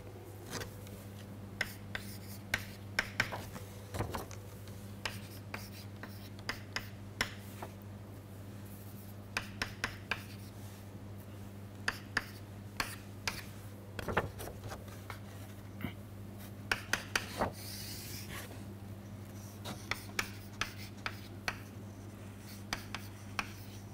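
Pen strokes from handwritten notes during a university chemistry lecture on EPR spectra: scattered light scratches and taps, close and fairly quiet, over a steady low electrical hum with no talking.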